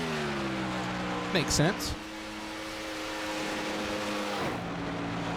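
Race car number 21 of the Vegas Inferno team on a qualifying run: a steady, droning engine tone holds throughout, broken by a quick close pass with a sharp pitch drop, while commentators talk over it.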